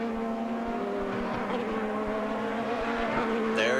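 IndyCar race cars at speed on the Mid-Ohio track during the 2007 Honda 200, a loud steady engine whine dominating throughout with another car rising in near the end.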